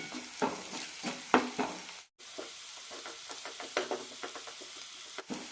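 Onions sautéing on a low flame for ulli choru, a quiet steady sizzle punctuated by irregular stirring clinks and scrapes, with a short drop to silence partway through.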